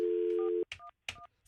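Telephone dialing tones for a 411 directory assistance call: a long steady tone, then two short keypad tone bursts separated by brief gaps, clear and alone.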